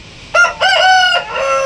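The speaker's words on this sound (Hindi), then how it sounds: "ये बात हुई ना बांग दे करके बंदे ने खेल कर दिखाया" An Aseel rooster crows loud and close, a short opening note followed by a long harmonic call that trails off, with no voices over it.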